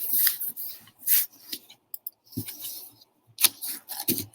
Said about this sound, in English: And thankfully, these scissors are nice and sharp.